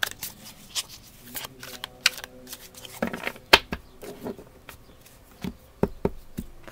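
Tarot cards are shuffled and drawn, making scattered crisp flicks and soft slaps at close range, with an irregular rhythm and a quiet voice now and then.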